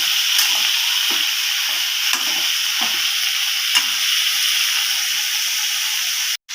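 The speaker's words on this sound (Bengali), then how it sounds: "এখন তরকারিটা খুব ভালো করে ভেজে নেব" Vegetable curry seasoned with salt and turmeric sizzles steadily in a hot pan, a close continuous hiss broken by soft stirring scrapes.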